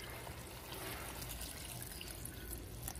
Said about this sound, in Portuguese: Aí joga a água dentro.